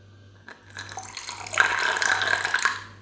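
Water poured into a bottle of homemade carbohydrate running drink: after a quiet start, a short trickle builds into a steady, splashing stream that gurgles close by for about a second and a half before tapering off.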